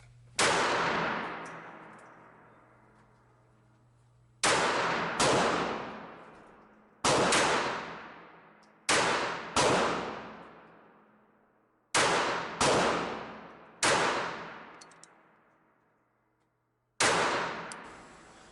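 KelTec P32 semi-automatic pocket pistol fired at a profile target on a range, eight sharp loud shots in uneven bursts, each with a ringing decaying tail, no talking.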